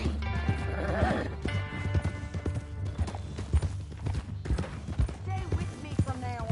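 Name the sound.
horse neighing and hooves in the video game Red Dead Redemption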